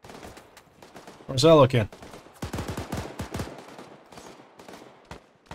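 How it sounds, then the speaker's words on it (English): Gunfire rings out in a military video game as a short loud burst of shots, followed by fainter scattered cracks under steady talk from several players. "Precise shooting on the north, probably in the town."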